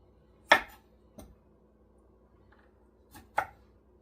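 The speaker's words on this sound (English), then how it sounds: "I'm just gonna cut my vegetables." A kitchen knife chops vegetables for pancit on a cutting board, with a few sharp, isolated cuts spaced irregularly and nearby, separated by quiet pauses.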